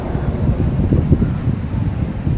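Strong, steady wind buffeting the microphone at a fishing spot during a gale warning, a dense low roar that surges and gusts throughout without any talk.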